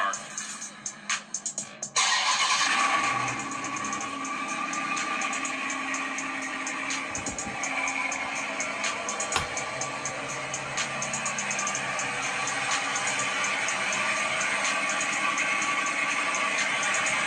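An iPhone XS Max picks up a car engine cold-starting, a brief burst of cranking giving way to a loud, steady idle hum that runs on with faint rattles and a few clicks.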